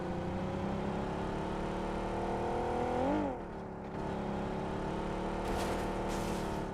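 A steady, droning video game car engine hums continuously, briefly dipping and rising in pitch as it shifts, with a faint whoosh near the end.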